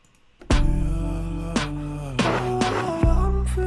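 A sung vocal line with echoing repeats that stops abruptly, each phrase cutting off dry with no lingering tail.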